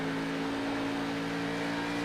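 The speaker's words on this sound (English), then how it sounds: "And you can hear those tires screeching." A race car engine drones steadily with a sustained high tonal squeal of tires screeching on the track, constant and fairly loud, during an Xfinity Series race at Homestead-Miami Speedway.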